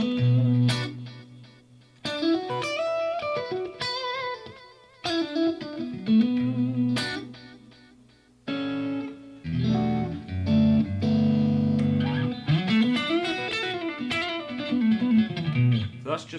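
Electric guitar played through a plain delay effect, phrases of sustained notes and slides whose repeats trail off behind each phrase, with short gaps between passages.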